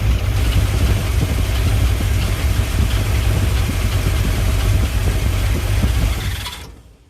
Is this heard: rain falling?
no